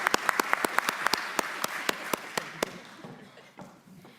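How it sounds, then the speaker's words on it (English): A small group at a weekly meeting claps in sharp, distinct strikes, quick at first and then spacing out and fading after a few seconds. "Yeah, we'll give a clap for that."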